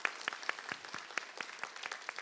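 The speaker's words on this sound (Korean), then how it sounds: "졸업생분들을 위해서 박수를 칩시다." Audience applause for graduates at a Korean university degree ceremony and thanksgiving Mass, a steady patter of many hands with sharper individual claps standing out, moderately distant and fairly quiet.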